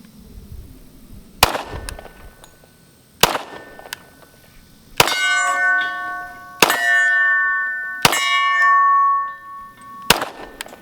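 A Sig Sauer P320 X-Ten pistol fires six sharp, loud shots at roughly even intervals, each crack followed by a ringing metallic clang that lingers between shots.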